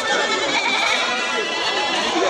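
Young kid goats, local and foreign crossbreeds, bleating amid a busy crowd at Tebaria livestock market in Natore, a continuous din of animal calls under steady background chatter.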